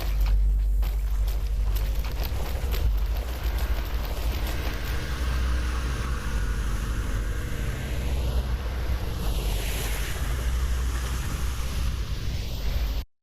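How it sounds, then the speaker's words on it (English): An airboat in the PUBG video game roars past the player, a loud, continuous engine and propeller drone with wind noise that sweeps slowly around, with no talk over it. "And so now what you just heard is the airboat"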